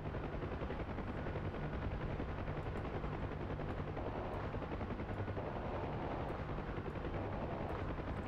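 A door gunner's minigun on a UH-1H helicopter in the video game DCS World fires in a continuous rapid roar over the steady thump of the rotor, dense and unbroken throughout.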